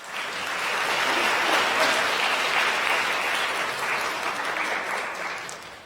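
Congregation applause fills a church during a Sunday service, a warm wash of many hands clapping that swells early, holds steady, and tapers off gently at the close.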